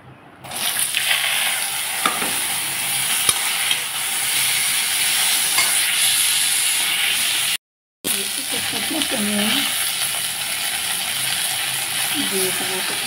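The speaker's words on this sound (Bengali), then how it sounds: "এখন আমি ভেজে নেব বটবটি।" Vegetables frying in a pan make a steady, close sizzle with faint clinks. It runs the whole time except a brief cut partway, while a person speaks over it.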